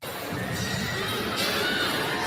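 A crowd cheering and shouting at a broadcast interview event, a steady, dense roar of many voices that holds without breaks from start to finish.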